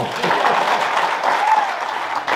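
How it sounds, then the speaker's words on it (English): A room of people applauds at a talk on South Poll cattle history, a dense, steady round of clapping that holds at full strength for the whole stretch. "thank you, give me a round of applause"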